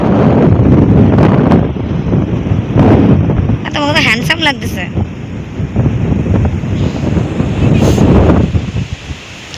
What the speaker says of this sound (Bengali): এখানে যা হাওয়া দিচ্ছে তো শোনা যাচ্ছে না। পুরো একদম ঝড় বইছে।